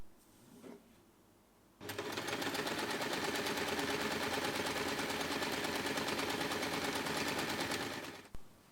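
A sewing machine stitches along the edge of folded cotton bow fabric in one continuous, fast, even run of about six seconds, starting and stopping abruptly after a quiet pause and a small click.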